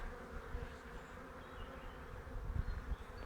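Honeybees swarm thickly around a strong colony's hive during an April inspection, a steady low buzzing drone with a few closer passes swelling louder near the end.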